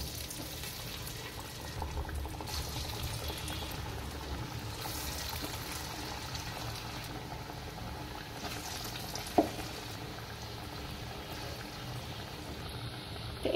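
Lentil fritters (dal bora) frying in hot oil give a steady, quiet sizzle and bubbling that runs throughout, with one brief sharp clink near the end.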